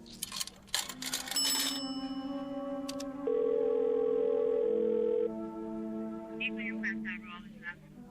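A steady telephone dial tone hums in a radio drama after a ringing bell and some clatter, holding evenly for a couple of seconds before fading into faint background sound.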